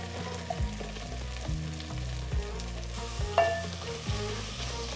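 Onions, urad dal, ginger, green chilies and curry leaves fry in coconut oil, a continuous close sizzle with periodic stirring scrapes and a low background tone.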